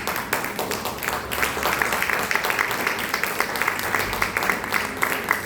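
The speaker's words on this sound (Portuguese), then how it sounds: "aplauda o nome dele em nome de Jesus" Steady, dense applause from a church congregation, continuous and fairly loud, with a faint murmur of voices underneath.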